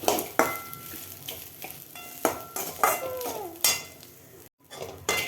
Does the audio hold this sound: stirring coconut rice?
yes